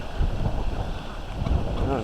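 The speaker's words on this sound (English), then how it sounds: "Gee, that's a big gust." A strong wind gust from Tropical Storm Ophelia roars and buffets the microphone in a heavy, rumbling rush outdoors, with a voice speaking faintly beneath it.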